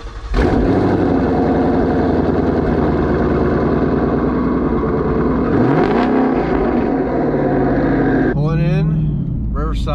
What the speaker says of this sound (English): so you can hear how the car sounds like right now, twin turbo